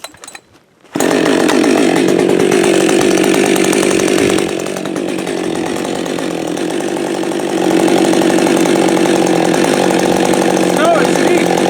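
A Husqvarna 562XP Autotune chainsaw fires up after a second of quiet and runs loud and close, its engine note rising and falling as it works through a cut, with the pitch shifting around the middle and again near the end.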